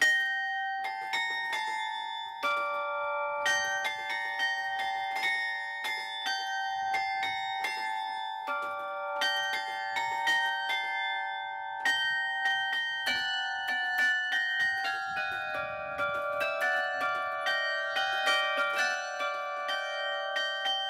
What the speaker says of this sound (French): Un son cristallin unique grâce aux 18 cloches du carillon.